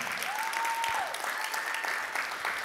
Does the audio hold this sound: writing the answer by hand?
no